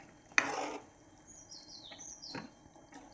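Spoon stirring eggplant in a pan for a village-style khar vangi: one clear clatter of utensil against the pan, then faint scraping and a softer knock, with quiet background chirps.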